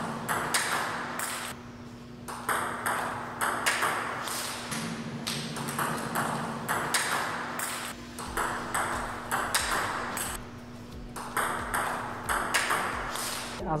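Table tennis rallies between penhold and shakehand players, with a steady run of crisp, hollow pings as the ball is struck back and forth at a quick, regular rhythm, close and fairly loud over a low background hum.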